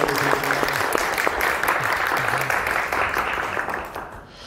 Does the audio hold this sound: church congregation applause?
yes